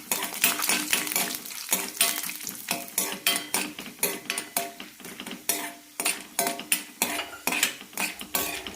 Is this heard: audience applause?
no